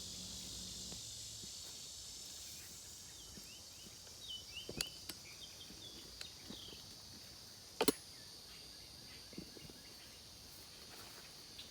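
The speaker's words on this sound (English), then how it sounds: "I didn't realize how loud the cicadas were until I listened to this replay." A steady high-pitched drone of cicadas buzzing continuously fills the background, with a few faint clicks and taps nearby.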